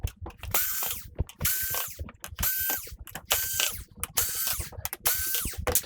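Screws being backed out of the board mounts inside a Toshiba 55UX600U television, heard as a ratcheting tool clicking in five or six repeated bursts, each lasting about half a second, close and fairly quiet with no talk.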